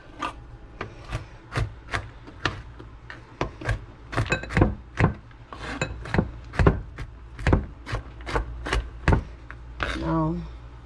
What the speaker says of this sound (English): so now I'm gonna chop up my pecans